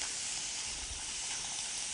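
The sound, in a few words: marinated duck sizzling in a pan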